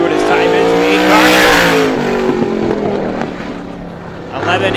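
A stock car on a time trial lap at Star Speedway roars past loud and close, its engine pitch falling as it passes, then fading before another car approaches.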